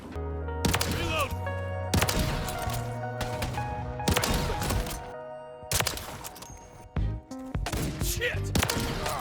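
Rapid gunfire in the video game Modern Warfare 3, with repeated bursts of shots and cracks over several seconds, loud and continuous with short gaps.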